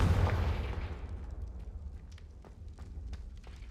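Bombarda and Confringo explosion spells from a wizarding video game: a loud, rumbling blast at the start that decays into a crackling, debris-like tail with scattered small pops.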